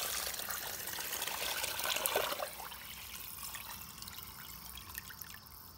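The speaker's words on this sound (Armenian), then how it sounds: "Ավելացնել սառը ջուր և կաթսայի կափարիչը փակ վիճակում դնել կրակի վրա։" Cold water poured into a pot for Armenian khash, a steady rushing splash that swells then settles into a softer trickle, close and alone.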